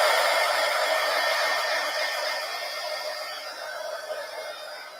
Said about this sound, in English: Okay, so now I'm going to go ahead and take my heat gun.